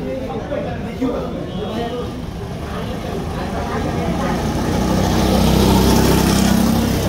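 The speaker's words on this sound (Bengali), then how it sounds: "একজন গোকাটে রাইড দিচ্ছে।" A go-kart driven on a track, its engine a continuous rough rumble that swells louder over several seconds as it nears, with someone talking over it.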